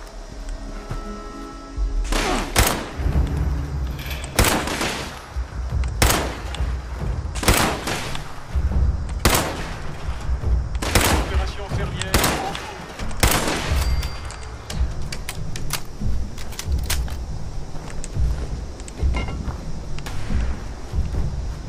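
A makeshift pipe pistol fires in the video game Fallout 76, with a dozen or so sharp shots in irregular succession over a low background hum.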